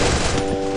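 Rapid automatic gunfire from the Free Fire video game rattles loud and dense for under a second, a sustained burst with no pause.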